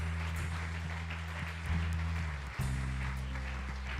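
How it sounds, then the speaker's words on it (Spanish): Congregation applause at a church service, soft scattered clapping under sustained organ or keyboard chords that shift midway. "dale un aplauso a Jesús por este tiempo tan hermoso"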